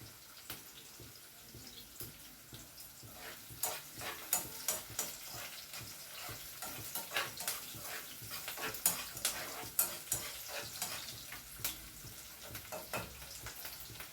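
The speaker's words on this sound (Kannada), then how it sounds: "ಇವಾಗ ಈರುಳ್ಳಿ ಫ್ರೈ ಆಗಿದೆ ಚೆನ್ನಾಗಿ" Onions fry in a pan at home, a soft continuous sizzle with faint crackles and occasional scraping of stirring, quiet and close throughout.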